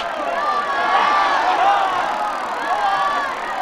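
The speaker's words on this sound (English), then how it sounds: "The crowd is on its feet!" A stadium crowd cheers loudly and continuously at a Quidditch match in the PS1 Harry Potter and the Philosopher's Stone game, a dense roar of many voices with rising shouts.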